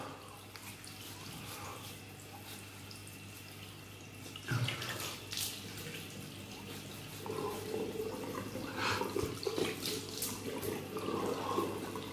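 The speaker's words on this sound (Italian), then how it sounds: "Sciacquo il visino." Tap water runs steadily into a bathroom sink while a face is rinsed after a wet shave, with louder splashing and sloshing bursts partway through and continuing to the end, close by with no talk.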